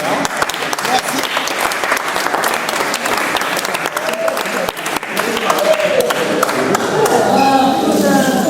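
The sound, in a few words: applause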